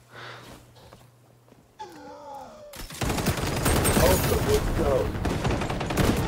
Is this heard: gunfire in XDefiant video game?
yes